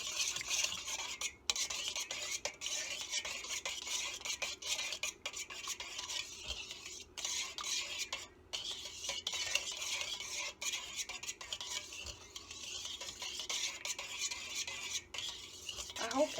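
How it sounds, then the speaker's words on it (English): A utensil scrapes and stirs through puto cheese batter with vanilla extract in a bowl, a soft, steady clinking and swishing that continues without a break and with no talking. "So we're just gonna mix that as well."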